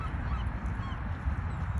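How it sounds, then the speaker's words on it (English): A flock of birds honks at Coney Island pier in Brooklyn, a noisy goose-like clamor of overlapping calls. It sits low in the mix against a steady wash of outdoor ambience, with no talking. "There's a lot of birds out here. And they got a flock of them over there too."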